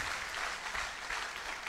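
Congregation claps in praise during a church testimony, a quiet, even patter of many hands, steady and faint throughout with no voices over it.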